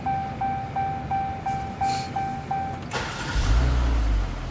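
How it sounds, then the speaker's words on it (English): Engine of a towed car, the tow vehicle, cranks and catches after a run of steady chime beeps, then settles into a deep, close idle rumble with no voices. "Then you will start the engine,"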